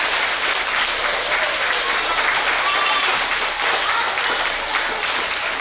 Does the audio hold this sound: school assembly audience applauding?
yes